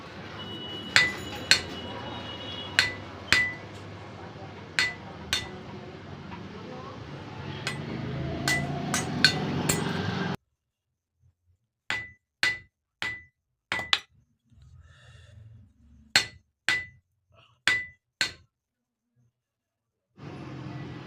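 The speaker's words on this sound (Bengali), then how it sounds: "দেখেন ঠুকে ঠুকে লাগানো হচ্ছে" A handle is driven onto a katari knife with repeated sharp metallic hammer blows at an uneven pace, first over a scraping, rustling background and then ringing out alone in near quiet, with faint voices at times.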